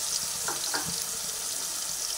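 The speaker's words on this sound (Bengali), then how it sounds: "পেঁয়াজ আদা রসুন সব একসঙ্গে এর মধ্যে দিয়ে দিলাম" Onion, ginger and garlic paste frying in oil in a pan, a continuous soft sizzle with a couple of brief stirring scrapes near the start, no speech.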